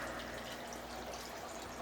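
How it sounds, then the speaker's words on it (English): A filter in a 300-gallon indoor pond holding goldfish, koi and guppies pumps water, giving a steady, quiet trickling rush with a low hum underneath, continuous and without voices. "And then I have my filter pumping water going this way"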